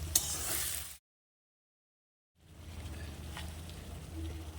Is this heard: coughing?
no